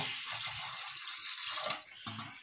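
Water poured into a cooking pot sitting on a stove, a bright steady splashing stream that runs continuously, then briefly breaks off and resumes near the end, close and fairly loud.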